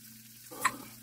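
A pork chop frying in a pan: a brief spitting sizzle bursts up at mid-point over a low steady hum, close and short-lived.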